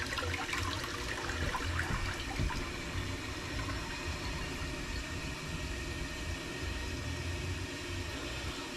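A toilet flushing during a plumbing pressure test at Mouse House, a sustained rushing, gurgling wash of water that runs evenly for several seconds with a faint low hum underneath.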